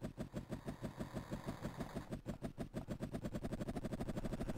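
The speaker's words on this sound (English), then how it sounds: "Yep, that's a chopper" Helicopter rotor chop from a 1992 Amiga video game, a steady rapid pulsing thud that speeds up slightly and grows denser toward the end, loud and alone with no talk.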